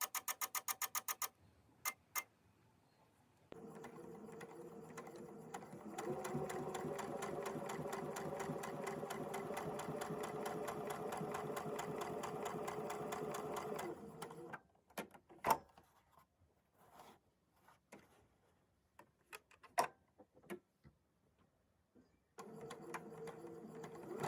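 A sewing machine runs in a steady rapid whir, stitching quilt half-square triangles a quarter inch from a drawn line, with short starts, a long continuous run in the middle and scattered clicks and fabric handling between, close and fairly quiet.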